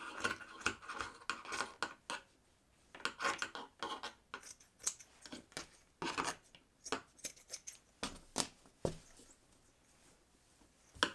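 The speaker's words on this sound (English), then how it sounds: "I'm gonna cut these little sleeves off" Scissors snip through the sleeves of a baby onesie in a run of short, crisp close cuts with irregular pauses, alone with no talking.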